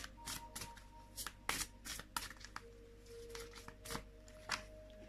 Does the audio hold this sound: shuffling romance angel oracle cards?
yes